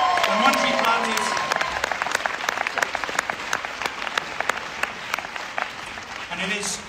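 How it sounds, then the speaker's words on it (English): Sustained applause from a gala crowd for a man named Matt, a dense and steady wash of many hands clapping, with voices mixed in. "Huge round of applause for Matt"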